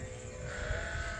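Sheep bleating indoors in a farm barn where they are bred, a single short close bleat over a steady background hum.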